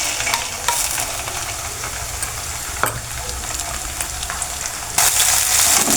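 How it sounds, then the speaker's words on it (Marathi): Onion and ground masala paste sautéing in oil until the oil separates, giving a steady close sizzle with occasional stirring scrapes and a brief louder burst near the end. "चांगलं तेल सुटेपर्यंत परतून घेऊ"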